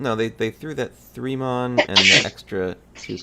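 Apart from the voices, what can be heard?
sneeze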